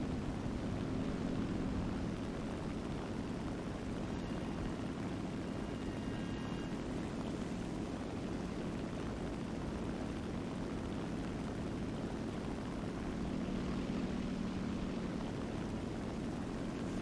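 Engine drone of a seaplane launched from a warship in a naval video game, a steady propeller hum holding at an even level throughout with no talking.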